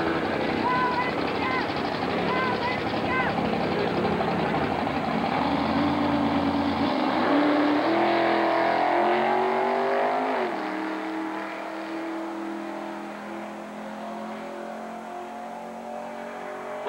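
Engine of a 1981 Camaro drag race car at Texas Motorplex rises through roaring, pitch-climbing revs, then settles into a lower droning hum, loud and sustained under an announcer's voice.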